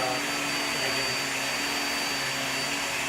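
A Hoover or Shark upright vacuum cleaner running on carpet, a steady loud broadband whoosh and motor hum held close and continuous with no talking.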